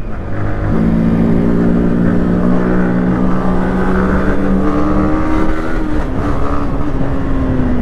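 A Hero Pleasure scooter rides past on a dusty road, its steady engine hum loud and continuous, mixed with road and wind noise throughout.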